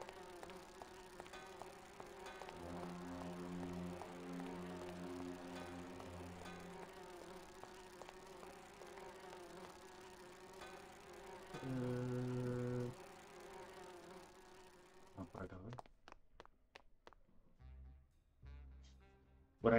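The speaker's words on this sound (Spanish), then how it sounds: "Estas abejas no parecen muy ocupadas." Buzzing bees in the Grim Fandango video game hum quietly under a layered game music and ambience bed, which cuts out near the end into scattered faint sounds.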